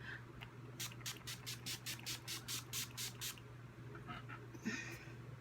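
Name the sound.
setting spray misted onto face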